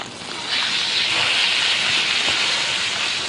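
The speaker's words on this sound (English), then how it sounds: "It's probably time to turn our steak now." A steak sizzles loudly in a hot pan in a Nagoya-style kitchen, a steady broadband hiss that swells after a soft start and holds close and even throughout.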